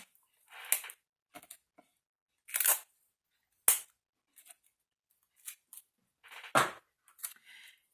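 Quiet, sharp crackling rips of stretchy plastic adhesive tape being pulled and torn, in about ten short separate bursts with silent gaps between them and no talk.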